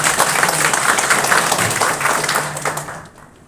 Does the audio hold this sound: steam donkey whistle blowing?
no